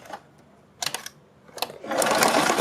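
Sewing machine stitching a seam on kurti fabric: two short bursts of running stitches, then a longer steady whir near and loud at the end.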